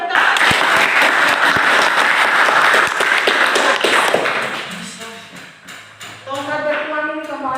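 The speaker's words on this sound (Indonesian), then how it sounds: "Iya, tepuk tangan." Classroom applause from students, steady clapping for several seconds that tapers off, followed by voices speaking over the fading claps.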